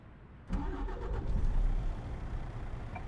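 A large Scania truck engine in the game Euro Truck Simulator 2 cranks and starts up after a brief quiet moment, then settles into a rough, rumbling idle up close.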